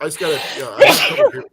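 Over a phone line during a live talk stream, a single sharp sneeze bursts out in the middle of ongoing speech, loud and close, with voices on either side.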